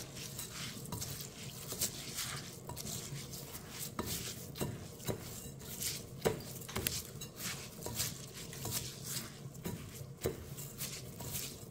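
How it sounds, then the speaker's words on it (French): Rice seasoned for a beef tchep-style riz au gras, stirred in a pot with a steady soft scraping and patter of grains against the metal, quiet and close, with no talk. "On va bien arroser le riz avec. Et ensuite, bien mélanger tout ceci."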